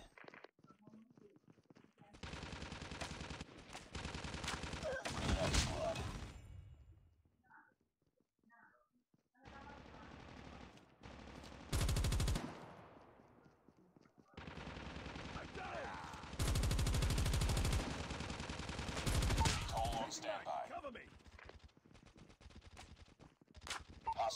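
A deployed sentry gun in a video game fires long automatic bursts, loud and rapid, separated by quieter gaps, with game voice lines in between.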